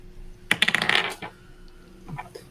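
Dice rolled for an attack in a tabletop role-playing game clatter across a surface in a quick, close burst of hard rattling clicks that settles within about a second, followed by a faint, brief shuffle. No talking.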